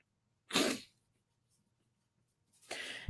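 A person sneezes sharply and close, once near the start, then a second sneeze begins at the end after a quiet pause.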